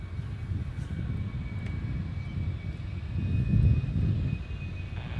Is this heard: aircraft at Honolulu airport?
yes